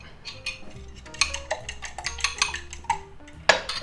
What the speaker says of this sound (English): a little bit of pepper, maybe a little bit of garlic, and we'll beat that up